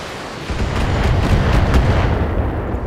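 A volley of missiles slams into a mech in the Battletech video game, making a dense, continuous rumble of explosive booms that swells and holds loud for several seconds with no talk.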